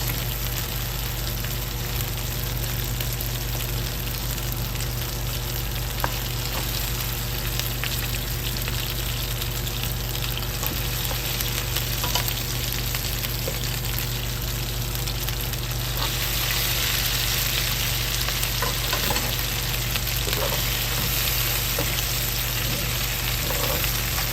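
Pampanga-style beef ribs fry in a pan, a steady loud sizzle and crackle filling the whole stretch, brightening toward the end, with no talking.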